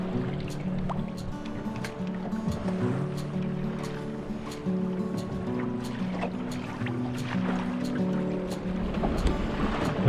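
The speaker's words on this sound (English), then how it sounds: "When leaving the bay, the waves increased." Waves slapping and washing against the hull of a sailboat under way at sea off a Swedish bay near Örskär lighthouse, with a steady near rush of water, repeated splashes and a low background hum throughout.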